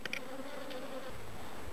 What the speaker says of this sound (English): we're going to go into my Georgia bees